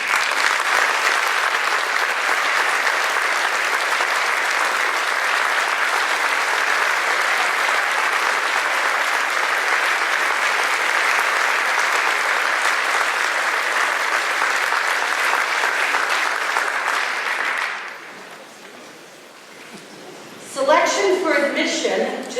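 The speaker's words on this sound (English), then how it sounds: "could you please stand so we can give you a round of applause for your" Sustained applause from a school awards-night audience honoring graduates, a dense steady clapping crowd for about seventeen seconds before it fades to quiet, followed by a short voice.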